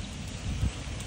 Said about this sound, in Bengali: হাই হাই বৃষ্টি